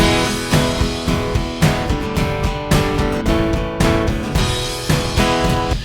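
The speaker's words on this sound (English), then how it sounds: "so then the chorus drums sound like this." Full chorus drum pattern with tom, kick, stomp and reverberant claps pounds steadily alongside sustained tonal instruments, dense and loud, with regular accented hits and no talking.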